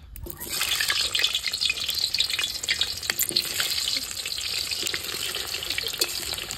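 Potatoes frying with duck curry in a pan during village-style cooking, a steady loud sizzle with watery crackle and occasional stirring scrapes throughout, no talk.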